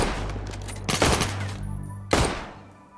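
Scattered gunfire from colonists in the game Rimworld: a few sharp shots and a short volley over a low background hum, moderately loud.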